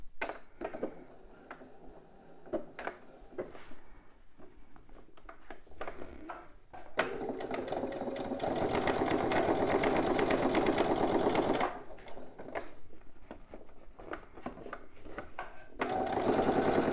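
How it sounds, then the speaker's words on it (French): A domestic sewing machine topstitching the corners of a zip, starting with scattered clicks and handling noises, then a close, steady motor whir for several seconds, then pausing and running again. "je commence pareil ma surpiqûre sur mes coins de zip"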